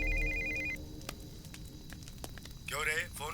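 A telephone rings in a film scene, a steady electronic ring tone at the start, followed by sparse background sounds and then a voice speaking.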